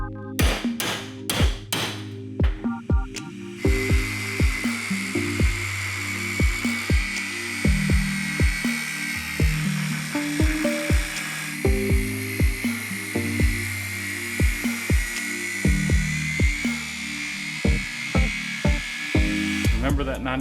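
Power tool trimming a part on a monster-truck-style go-kart, starting with several loud rapid hammering bursts, then a continuous high buzzing whine with repeated knocks over it, while people talk in the shop.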